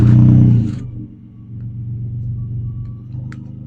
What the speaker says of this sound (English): So I'm gonna let y'all get a cold start of this thing real quick